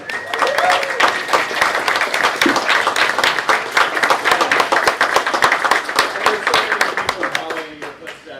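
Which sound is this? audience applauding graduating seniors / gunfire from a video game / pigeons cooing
audience applauding graduating seniors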